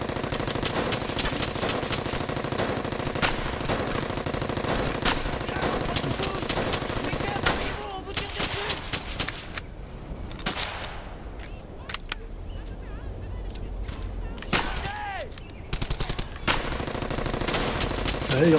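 Sustained machine gun fire in the World War II shooter Brothers in Arms: Hell's Highway: a long dense rattle, then a lull of scattered single shots and distant bursts, before heavy firing resumes, with battle noise and some voices mixed in.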